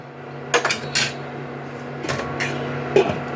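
A metal lid goes onto a pot of puffed rice ghonto, with a few sharp clanks and rattles close by, then quieter scraping knocks.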